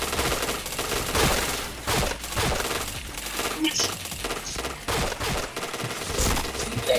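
A video game shooter gives off dense, loud gunfire in rapid bursts and continuous volleys, with only brief breaks in the clatter.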